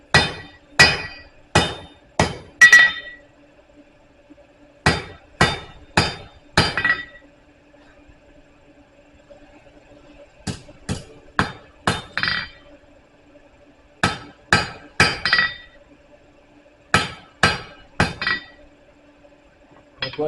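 A blacksmith hammers hot metal to draw a taper, striking in quick bursts of four to six sharp ringing blows separated by short pauses, close and clear with a faint steady hum beneath and no talking.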